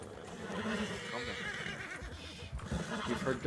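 Horses in a RedM roleplay video game neigh and whinny several times at close range, with some clip-clop of hooves beneath.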